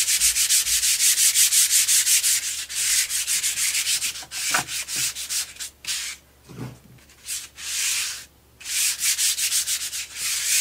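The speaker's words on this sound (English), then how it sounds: "I can take my sanding disc," Sanding disc rubbed over an image transfer on an art surface, a close, steady scratchy rasp in repeated back-and-forth strokes with brief pauses between passes.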